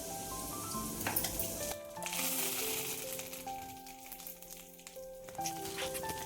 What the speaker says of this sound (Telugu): ఇక్కడైతే పప్పుచారు కోసం తాలింపు పెట్టుకుంటున్నాను